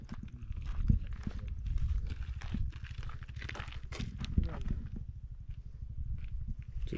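A bull's hooves clop at a slow, steady walking pace on hard ground, fairly close, with faint background noise.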